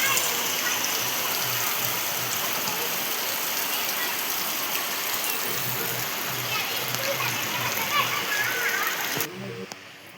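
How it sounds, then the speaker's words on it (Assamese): Heavy rain pours steadily outside a home kitchen, a dense, even hiss of drops on surfaces that holds for several seconds before thinning out at the very end. "এয়া বৰষুণ দি আছে বাহিৰত"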